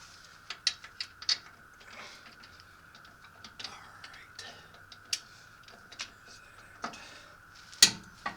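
A ratchet wrench clicks in short, sharp bursts of pawl ticks while tightening the CV axle on a 1989 Nissan D21 Hardbody pickup, with quiet pauses and faint low voices in between.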